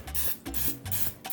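Pam cooking spray hissing onto a grill basket in several short bursts, a soft airy spray up close, separated by brief pauses and faint handling noises.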